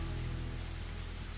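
Heavy downpour in the Higurashi visual novel game, a steady dense hiss of rain filling the scene, loud and unbroken with no voices.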